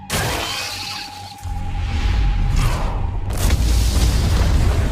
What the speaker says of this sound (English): Looks like fireworks are going off in the ant tunnels